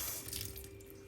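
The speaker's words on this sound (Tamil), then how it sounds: "பச்சை தண்ணி இதுல ஊத்து, இதுல ஊத்து." Cold water pours steadily, a faint continuous splash and trickle with a thin constant background tone throughout.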